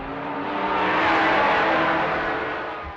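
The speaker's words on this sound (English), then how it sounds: "I love to hear those cars go by" Cars roar past at a motor racing circuit in one sustained swell, the engine noise building loud to a peak near the middle and then fading as the vehicles pass by, with no talking.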